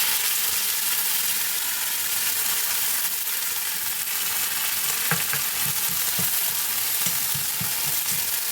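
Mint leaves and cumin seeds fry in oil, making a constant crackling hiss, and a run of light spoon-against-pan clicks comes toward the end, with no voices.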